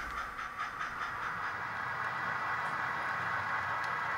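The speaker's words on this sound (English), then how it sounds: "Here we see the 4217 moving up to couple to the rear of the train" An HO scale model locomotive, Southern Pacific 4217, moves up on a DCC club layout to couple to the rear of a train, giving a steady soft rolling hum with faint clicks and a light hiss throughout.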